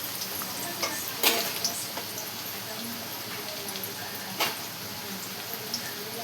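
Onion frying in a kadhai: a faint, steady sizzle with occasional stirring clicks and scrapes, quiet and close, with a voice talking now and then over it.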